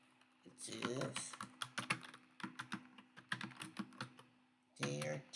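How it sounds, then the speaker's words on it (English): Rapid clicking of typing on a computer keyboard during design work in Canva, with irregular bursts of close, crisp keystrokes over a faint steady hum, and brief voice-like bursts at the start and end. "start typing in our heading"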